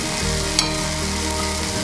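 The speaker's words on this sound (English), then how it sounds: "heat up oil in a pot and toss in the tomatoes and green onions. Fry 2 to 3 minutes" Tomatoes and green onions sizzle and fry in hot oil in a pot, a steady close crackle with a brief stir partway through.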